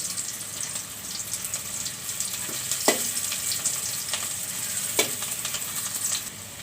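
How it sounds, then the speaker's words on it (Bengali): Hot oil crackles and sizzles steadily as a halved bay leaf drops in for red lentil dal with tomato, with a couple of sharper clinks from a spoon or pan over the continuous frying hiss. "আমি এখানে একটা তেজপাতা দুই ভাগ করে নিয়েছি দিয়ে দিচ্ছি"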